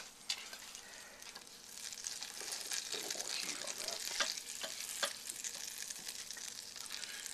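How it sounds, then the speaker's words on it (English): A third of a cup of butter melts in a pan, hissing in a steady, close sizzle that swells as the pan is swirled, with a few soft taps and scrapes. "We're going to start with 1/3 cup of butter divided. And we got to get that melted."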